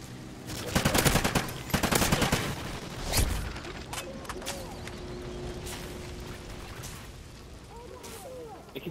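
Video game gunfire in a multiplayer shooter: dense bursts of rapid automatic fire in the first two seconds, a heavier single blast near three seconds, then fainter scattered shots over a low hum.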